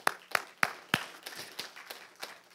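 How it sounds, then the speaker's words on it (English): A congregation applauds the worship team, opening with a few loud, close claps and then fading into a scattered, softer patter of clapping around the room. "Let's give them a hand of applause."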